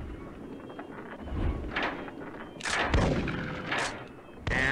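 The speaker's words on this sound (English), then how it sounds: "how are these windmills so weak that shotgun fire is outright destroying them?" Shotgun blasts sound in the Big Buck Hunter Pro arcade hunting game as windmills are destroyed. A few booming shots fall amid loud, busy game audio, with rumbling crashes between them.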